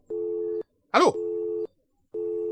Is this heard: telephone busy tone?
yes